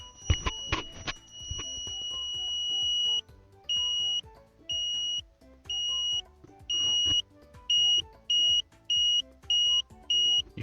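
Electronic buzzer on an Elegoo UNO R3 board beeping up close in a series of steady high-pitched tones, starting with one long beep and then moving into a rhythmic run of short on-off pulses, with faint handling knocks underneath.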